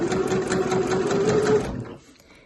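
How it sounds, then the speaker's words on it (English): Sewing machine stitching tote bag fabric near a corner, a loud rapid mechanical whirr with a steady hum that runs for about a second and a half, then stops abruptly. "I'll slow down as I approach the corner, and then with my needle in my fabric I'll lift my foot and swivel round"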